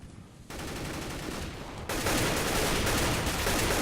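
AK rifle fire in Counter-Strike, a dense, continuous crackle of shots that steps up louder partway through and keeps going without pause.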